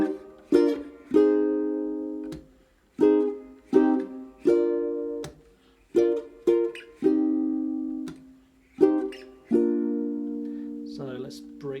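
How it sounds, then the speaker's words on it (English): Ukulele chords strummed with the thumb, a slow progression of about a dozen ringing strums with soft pauses between them, close and clear, no talk. "It sounds like this if you just strum with your thumb."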